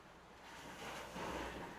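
Sea water sloshes and washes around a sailboat under sail, a faint, continuous swell of waves and wind noise with no voices.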